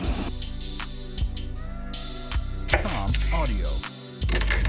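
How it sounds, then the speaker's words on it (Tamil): Shallots are chopped with a knife for a bread pizza, a few sharp cutting knocks standing out over steady background music, with a louder burst of cuts near the end. "நான் வெங்காயத்தை சின்ன சின்னதாக கட் பண்ணி வச்சுக்கிறேன்"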